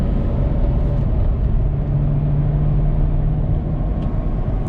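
A Chevrolet Corvette ZR1 C6 with its exhaust valve closed drones steadily from inside the cabin while driving, a loud continuous low rumble with a faint rising tone in the middle.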